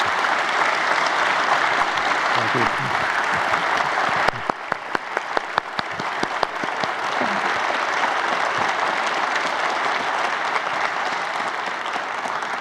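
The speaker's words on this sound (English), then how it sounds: "Can we get another round of applause" Audience applause for a scientist after a research talk, steady sustained clapping from a crowd filling the room, with a brief spoken thanks near the end.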